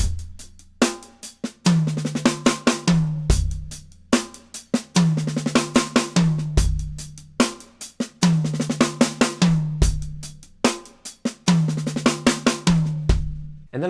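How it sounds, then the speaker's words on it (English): A drum groove with soft left-hand ghost strokes on the snare sits between louder backbeats and kick hits, in a steady sixteenth-note rhythm played close and alone. "playing a ghost stroke on the snare drum"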